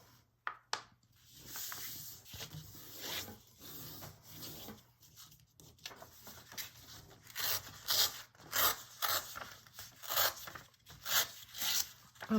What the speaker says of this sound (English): I will tear this one in two